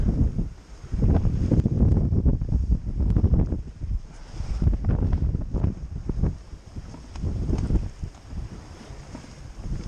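Strong wind buffets a sailboat at sea, with whitecaps on the waves and both reefs in, producing loud, gusting roars and rumbling that surge and ease unevenly throughout.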